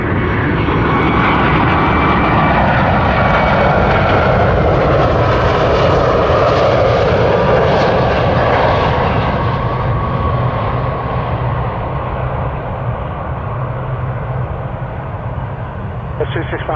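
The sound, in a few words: airplane at Toronto Pearson airport lining up on runway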